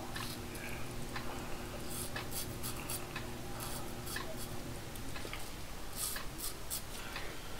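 Shaving with a King C. Gillette safety razor fitted with a Pol Silver blade, close-up rasping scrapes of the blade across stubble in short strokes, with faint background hum.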